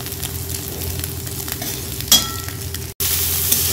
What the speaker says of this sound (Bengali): এখানে আমি ডিমের ভুজিয়াটা করে নিচ্ছি